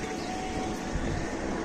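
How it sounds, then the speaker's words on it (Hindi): An electric fan blowing steadily while pigeon peas are winnowed outdoors, a continuous broadband whooshing roar at constant loudness throughout. "पीछे ये देखिए पंखा से अभी हम लोग रहर उड़वा रहे हैं"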